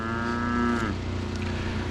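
A cow lets out a drawn-out, nasal moo, followed by another lower moo in the background, both fairly close.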